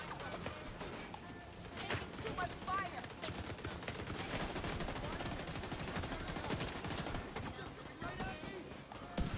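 Rapid gunfire from a firefight in the video game The Division 2, steady bursts of shots running through the whole stretch over a dense, busy game mix with a voice speaking over it.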